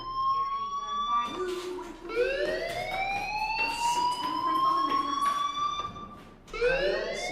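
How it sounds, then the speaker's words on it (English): A fire alarm rings in the Life Is Strange video game, a loud, steady electronic siren sweeping in repeated rising tones, briefly dipping before starting up again at the end. "Hey, do you hear that fire alarm?"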